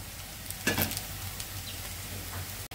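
Onion and garlic sizzle in hot oil with a steady, close hiss. A brief stirring scrape comes partway through, and no one speaks.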